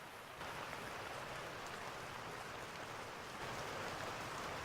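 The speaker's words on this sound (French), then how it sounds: "C'est l'enfer la pluie là." Steady rain in the video game Insurgency, a faint, even hiss of falling drops that runs without a break, with no voices.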